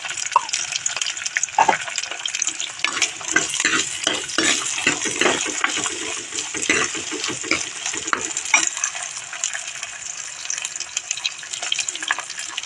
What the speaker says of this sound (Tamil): நம்ம வெங்காயத்தை போட்டுக்கலாம். ரெண்டு பச்சை மிளகாய்